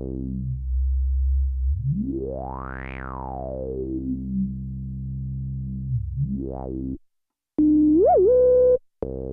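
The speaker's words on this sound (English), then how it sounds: "Let's try turning the emphasis up. Bring the feedback loop in." Behringer Poly D analog synthesizer with emphasis turned up and the feedback loop engaged, a loud buzzy tone sweeping slowly up and back down in pitch, then a quicker swoop, a brief cut, and a resonant wobbling note.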